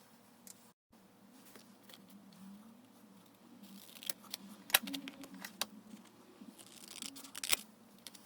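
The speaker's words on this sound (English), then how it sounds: "I'm going to cut out both papers so that they are identical to one another" Scissors cut out trapezoid shapes from two stacked sheets of colored paper, a series of close, crisp snips and soft paper rustles in an otherwise quiet room.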